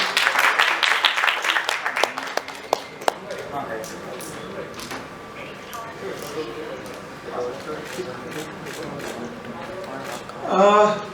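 Audience at the launch of a live music show claps in scattered bursts, sharp individual claps at first giving way to looser, uneven applause, with voices talking over it and a short loud flurry near the end.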